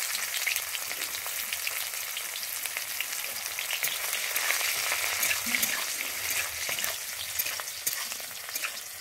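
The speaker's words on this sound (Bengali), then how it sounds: "আমি কুচিয়েছি পেঁয়াজটাকে, দিয়ে আমি তেলের মধ্যে ভেজে নিচ্ছি।" Chopped onion frying in white oil in a wok, a steady crackling sizzle with occasional stirring scrapes, close and continuous with no talking.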